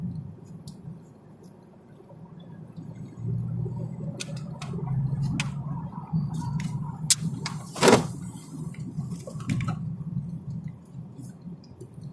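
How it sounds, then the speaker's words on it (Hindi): A Tata Harrier's engine pulls steadily in second gear on a Ladakh mountain road between Delhi and Kargil, a continuous low drone heard from inside the cabin with a few clicks and knocks over it. "दूसरे में खींच रही है गाड़ी"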